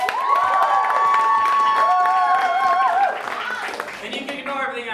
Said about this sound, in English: Round of applause if you've seen an Off Key show here before